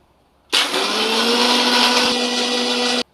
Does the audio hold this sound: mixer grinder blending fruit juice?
yes